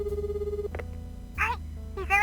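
A phone rings in a visual novel game scene with a repeating electronic ring pattern that cuts off, followed by brief snatches of a voice speaking.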